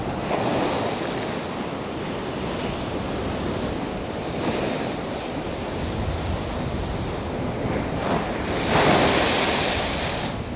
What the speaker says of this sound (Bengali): আর সমুদ্র ফুলে ফেপে উঠছে